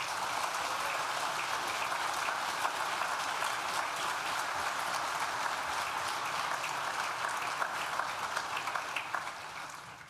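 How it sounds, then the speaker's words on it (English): Graduation ceremony audience applauding steadily and loudly throughout, a dense even clapping that tapers slightly at the end, with no talk over it. "please join me in thanking them with a well-deserved round of applause"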